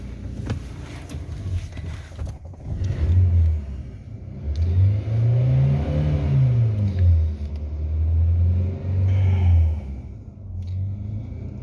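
Fiat Palio 1.4 with a single-point injector fault starts up and idles, its engine rumble swelling into a couple of revs before settling to a steady running drone, close and loud with no talk.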